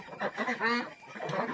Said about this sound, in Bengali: বতক মুরগি।